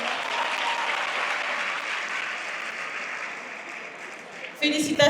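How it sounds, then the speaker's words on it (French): Applause at a graduation ceremony as a graduate is called up, a steady crowd clapping that slowly thins, then a voice over a microphone breaks in at the end. "On l'accompagne avec des applaudissements de lui."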